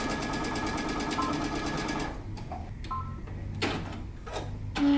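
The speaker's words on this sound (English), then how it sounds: "we're going to start stitching at the top and stopping at the dot" A sewing machine stitching the side seam of a pair of pants runs in a fast, steady close burst for about two seconds, then stops, leaving light handling clicks.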